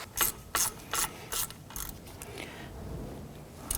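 Ratchet snugging down bolts on the front wheel hub of a 1997-2006 Jeep Wrangler, five rhythmic bursts of close pawl clicking followed by a quieter stretch of faint mechanical rubbing, no talking.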